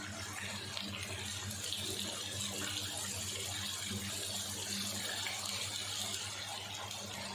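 Marinated chicken sizzles in hot ghee in a cooking pot, a dense, even hiss and crackle that runs continuously without a break.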